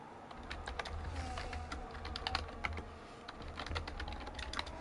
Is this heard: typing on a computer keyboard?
yes